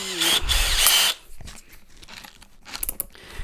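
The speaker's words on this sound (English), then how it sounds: "just went ahead and grabbed a real drill, and go ahead and put the tool in it" A cordless drill fitted with a rivet gun attachment whirs loudly in a short burst, then stops, followed by a few quieter clicks and brief bits of handling noise.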